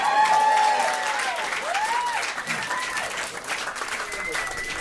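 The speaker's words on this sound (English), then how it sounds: "round of applause for a second." Audience applause fills a stand-up comedy gig, a steady roar of clapping that starts loudest and holds through to the end with scattered whoops, and no voice speaks over it.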